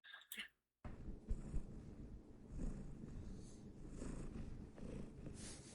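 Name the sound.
recording of female cat purring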